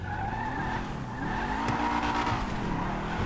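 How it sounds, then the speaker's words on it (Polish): An Aston Martin in the video game GTA Online revs and drifts, its engine note rising and falling in pitch under a continuous loud tire screech, close and without talk. "Samochód ma naprawdę fajne brzmienie silnika."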